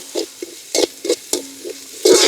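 Onions, green chillies, garlic, ginger and pepper sautéing in oil, with a string of short, close scraping stirs and bursts of crackling sizzle in a quick, uneven rhythm.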